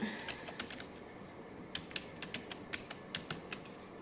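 Typing on a computer keyboard while writing LaTeX, a string of crisp, fairly close key clicks in an irregular rhythm over a faint background hiss.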